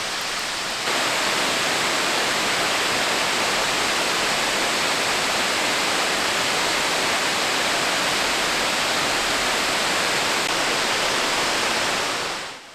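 Güzeldere waterfall in Gölyaka, Düzce, roaring steadily in rainy weather, a dense, loud, continuous rush of falling water with no voices, cutting off abruptly at the end.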